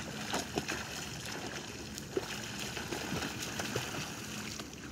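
A child swimming in a pool makes faint, irregular splashes and water sloshing, with small scattered slaps against a steady watery background, distant and quiet with no talking.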